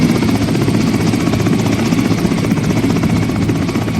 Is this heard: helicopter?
yes